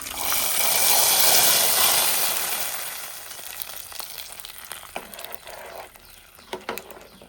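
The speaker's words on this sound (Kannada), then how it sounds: "ಕುದೀತಾ ಇದೆ ಸಾರು." Mixed vegetable sambar bubbles in a pot, a loud close gushing, hissing rush at first that settles into softer bubbling with scattered pops.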